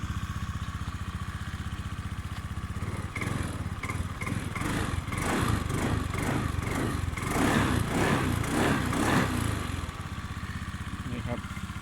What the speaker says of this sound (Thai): เครื่องทำการฟิตให้เรียบร้อยนะครับ เครื่องจะนิ่มมากครับ